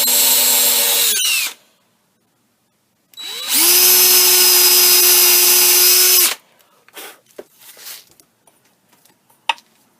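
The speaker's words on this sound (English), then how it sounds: "And then pre-drill those holes." A power drill pre-drilling holes in wood whines at high pitch in two bursts, the second longer, followed by clicks and handling noises.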